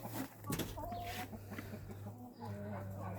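Cochin chickens cluck softly and close by in short, scattered clucks over a low steady hum, the sound fairly faint overall.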